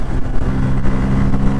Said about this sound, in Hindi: एक्सीलरेशन देने के बाद एक बार साउंड सुनाओ